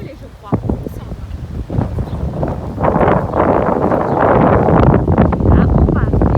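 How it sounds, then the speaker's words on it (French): Strong wind gusting across the Rouen riverside quays, a broad rushing roar that builds and stays loud with buffeting on the microphone, while a person talks over it. "je peux vous dire qu'il y a du vent"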